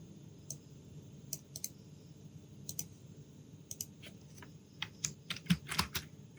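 Someone types on a computer keyboard in quiet room tone, with scattered key clicks that come faster and more densely toward the end.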